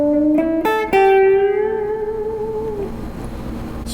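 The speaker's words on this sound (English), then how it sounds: "we bend this up to our root" An electric guitar note bent up to the root, with a couple of picked notes rising in pitch before one held note sustains and slowly fades. It plays alone and up close.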